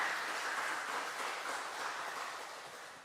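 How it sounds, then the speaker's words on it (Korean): Soft, steady applause from a church congregation, distant and faint, with a crackling texture like rain, gradually fading toward the end. "다시 한번 큰 박수로 환영해 주시면 감사하겠습니다"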